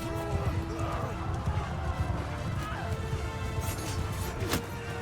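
Horse hooves clip-clop and thud at a gallop in the medieval combat game Mount & Blade II Bannerlord, a dense steady rumble of running mounts with a sharp crash near the end and battle noise throughout.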